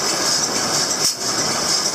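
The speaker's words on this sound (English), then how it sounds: "That was the air blowing off." Compressed air blows off from farm equipment while baling muddy wet hay, a loud steady broadband hiss with a brief dip midway, running continuously throughout.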